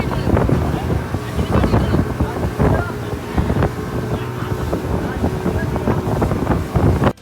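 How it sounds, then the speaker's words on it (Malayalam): A boat crosses open sea near Coral Island, Pattaya, with engine drone mixed with rushing water and heavy wind buffeting the microphone, loud and continuous throughout. "ഈ കടലിൻ്റെ നടുക്കൂടിയുള്ള ഈ ഒരു ബോട്ട് സഫാരി അടിപൊളി എക്സ്പീരിയൻസ് ആയിരുന്നു"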